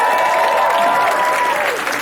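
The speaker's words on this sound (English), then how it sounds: "Give them a round of applause." Steady applause from an audience at a Tim Kaine campaign rally at Muhlenberg, dense clapping that holds for about two seconds and begins to thin out near the end.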